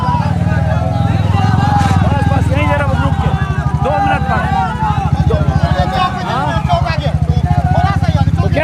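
A motorcycle used for election campaigning in Jokihat, Bihar, sputters and idles close by with a rapid, steady engine putter, while people talk loudly over it throughout.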